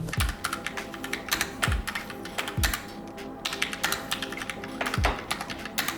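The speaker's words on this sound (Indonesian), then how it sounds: "Bisa lo denger sendiri nih gimana bunyi switch-nya waktu gua coba ketik pakai keyboard ini." Steady typing on a Logitech Pop keyboard with brown switches, soft, slightly muted key clicks in quick irregular bursts, close up, with occasional heavier thumps from the spacebar.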